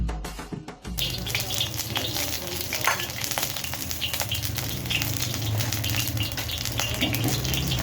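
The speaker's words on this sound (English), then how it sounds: "Now we can fry 4 or 5 pieces at once or as required." Sapu mhecha, a Newari dish from Kathmandu, fries several pieces at once in hot oil, giving a dense continuous sizzle with crackling pops after a brief clatter at the start, close and steady.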